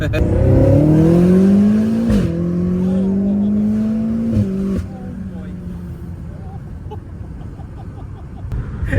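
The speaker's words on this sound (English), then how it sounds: "there's an 800 brake M5 behind her" An 800 bhp BMW M5 F90 engine revs hard and accelerates up through the gears, loud and close, with brief dips at the shifts before the roar drops away to a quieter drone.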